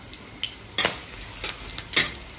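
Whole bay leaf, dried chilli, cardamom and cinnamon fry in hot oil for a mutton curry, with a soft sizzle broken by a few sharp scrapes and clinks of a spoon stirring the pan, fairly close and quiet.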